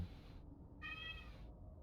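A cat that wants to go outside lets out a single soft, quiet meow midway through, heard alone against low background hum.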